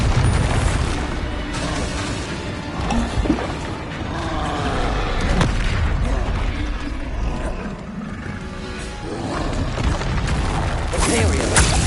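Amid a Hogwarts Legacy spell duel, a Bombarda blasting spell booms with crashing, creaking debris among roaring creatures and mechanical clatter, part of a long, dense, loud stretch of combat noise.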